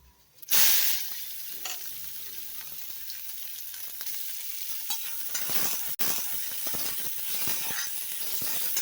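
Shallots, mustard seeds and urad dal sizzle and hiss loudly in hot oil, starting with a sharp burst as they hit the pan, then crackling steadily with scattered pops and stirring scrapes, no talking.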